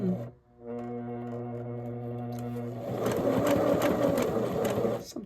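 A Singer sewing machine set to zigzag but only sewing a straight stitch runs with a steady mechanical hum, then speeds into a louder, busier rattle of stitching for the last couple of seconds, with no talking.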